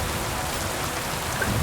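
Heavy rain falling in Kingdom Come Deliverance 2, a loud, dense, steady hiss of downpour with a low rumble underneath, no one speaking.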